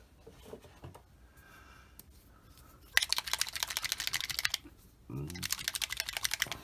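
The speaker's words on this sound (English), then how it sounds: "Hear that clacking around in there? That's a stainless steel nut to help keep it mixed up." A stainless steel nut rattles inside a shaken bottle of silver Tamiya model paint, making rapid, loud clacking bursts in two runs with a short pause between, close by, with brief speech in the gap.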